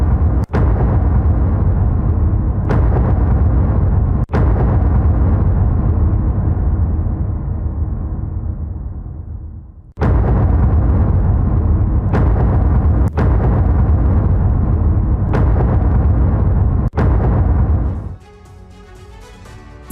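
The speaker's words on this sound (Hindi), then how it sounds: "आईडीएफ ने हमास के ठिकानों पर जबरदस्त बमबारी की है।" Bombing explosions in southern Gaza make a loud, sustained, heavy rumbling roar broken by sudden sharp bursts, then fade to a quieter background near the end.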